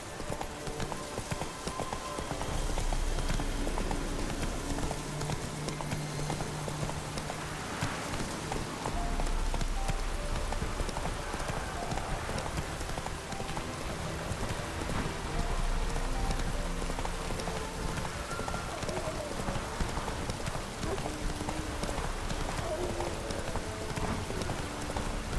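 Roach, a horse in The Witcher 3, gallops through rain with steady rapid hoofbeats over a constant hiss of rainfall, continuous and close throughout, with no talking.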